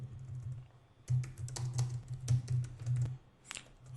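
Code is typed on a computer keyboard in quick, close bursts of clicking keystrokes, with short pauses between runs and no talking.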